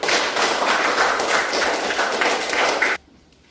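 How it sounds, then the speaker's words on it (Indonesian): Students clapping together in an Indonesian classroom after group discussions, a loud continuous burst of applause for about three seconds that cuts off abruptly into near silence. "Mari kita berikan tepuk tangan untuk kelompok kita masing-masing"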